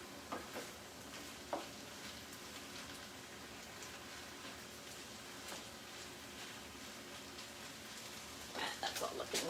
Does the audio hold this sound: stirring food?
yes